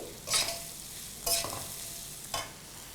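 Diced sweet potato, pumpkin and eggplant go into a hot pan for a Bengali vegetable ghonto, giving three brief bursts of stirring and sizzling a second apart over a low, steady frying background.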